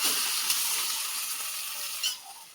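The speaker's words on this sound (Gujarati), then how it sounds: "ફાઇનલી વઘાર દીધા છે પૌવા" Steady hissing sizzle of oil tempering for poha in a hot pan, close and continuous, with a faint clink near the end.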